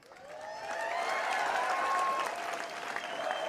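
A large crowd cheers and applauds steadily and loudly at the 350th Shivrajyabhishek coronation celebration, a dense, continuous roar of clapping and voices that barely eases.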